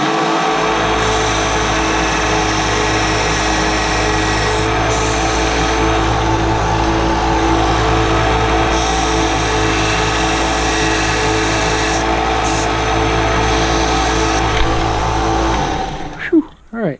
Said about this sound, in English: After they're cut, we take them back over to the sander to clean these up.